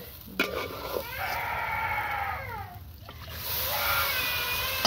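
Water is poured into a pot of pilaf cooking over a clay stove, a splashing gush with sizzling and a few clatters, while someone talks in the background.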